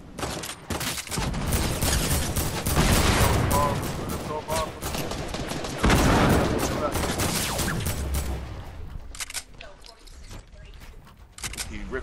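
Gunfire in a multiplayer shooter video game: near-constant rapid automatic bursts and single cracks, loud and close, continue almost without pause, with players talking over them.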